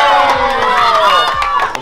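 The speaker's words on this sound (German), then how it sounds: "ihr bekommt einmal einen Applaus" A crowd of subscribers at a free shop opening cheers and shouts over each other in a brief burst, voices close and loud with excited whoops, including young voices.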